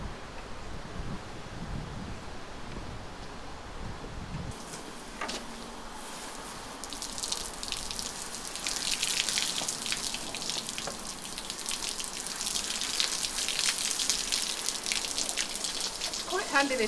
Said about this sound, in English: Handy this hose pipe nozzle because you've got the pressure thing here, you can just shut it down.